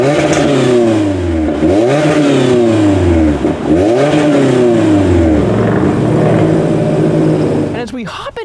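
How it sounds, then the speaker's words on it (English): A 2021 Toyota Corolla Apex with a single exhaust revs repeatedly up and down, loud and close, with rising and falling engine sweeps before settling to a steady drone. "here's a quick exhaust clip"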